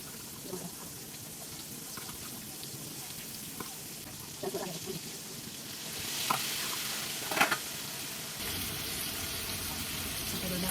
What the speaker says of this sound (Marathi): आता त्याला फ्राय करू आपण